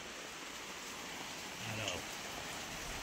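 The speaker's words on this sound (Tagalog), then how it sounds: "Ay, umuulan na naman." Rain falling outdoors at a work site, a soft steady patter that swells slightly partway through, faint and continuous.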